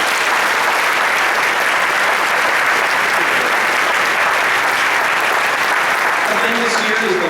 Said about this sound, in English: Could we have a round of applause for all of our school board?